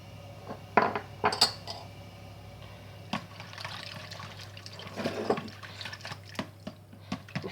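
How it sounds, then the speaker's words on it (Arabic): Butter is stirred into crepe batter of eggs, milk, sugar and a pinch of salt in a bowl, giving soft wet sloshing and scattered clinks of a utensil against the bowl, with a low steady hum underneath. "انا غادي دابا نخلط الخليط حتى الزبده تجانس مع البيض والحليب والسكر وقبصه الملح"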